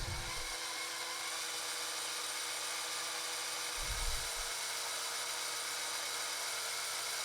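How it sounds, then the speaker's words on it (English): Steady high-pitched whine of a drill boring through a hole with cutting lube applied, running continuously at a constant level with two brief low thumps. "the drill is likely to bind as it goes through the end of the hole"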